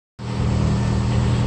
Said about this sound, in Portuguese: Tá aí o Vectrão, então, Millennium funcionando de novo.